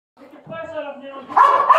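A police K-9 dog barks and yips in short, excited bursts that build in loudness, mixed with a voice at a tense scene where a fugitive is being flushed from a barn.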